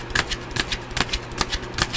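Tarot cards being shuffled by hand: a quick run of crisp riffling bursts, about five or six in a steady rhythm, close and clear with no talking.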